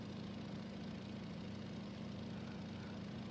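Boeing PT-17 Stearman biplane from 1937 with a radial engine idling in the flight sim MSFS 2020, a steady low drone and rumble that stays even throughout with no speech.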